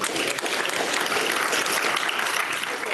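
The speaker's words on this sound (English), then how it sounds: "big round of applause for all of the data challenge finalists for all their presentations" A conference audience at a sports analytics event gives sustained applause for data challenge finalists, a thick wash of many hands clapping loudly and evenly throughout.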